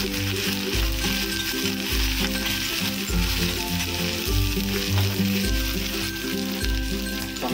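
Tomatoes are dropped onto browned onions with ginger-garlic paste in a pan for Mumbai pav bhaji. A loud, steady sizzle runs throughout, with periodic stirring scrapes, and no one is talking.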